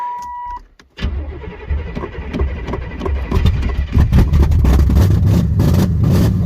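After a short electronic chime, an old car with a Turbo 350 transmission cranks and catches, then settles into a loud, rough idle close by.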